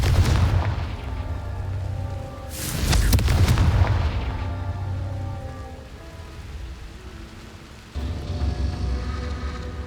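A Confringo fire spell exploding in Hogwarts Legacy, a sharp burst with a heavy rumbling boom around the midpoint that fades into crackling decay, over a continuous game ambience that surges again near the end.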